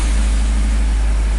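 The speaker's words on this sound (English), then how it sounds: "Let's start the vehicle up." Toyota Corolla from 2007 with a misfiring, rough idle, its engine running steadily with a low, pulsing drone held at a constant level throughout.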